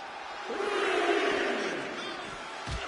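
In the WWE 2K24 video game, an arena crowd roars and cheers in a dense, sustained wave that swells and then eases slightly, with a thud near the end.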